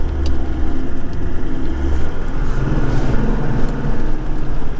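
A 4WD vehicle in second gear, low range, grinds up the steep Blue Rag Range Track in the high country, its engine a steady close loud rumble with light knocks and rattles over the rough surface.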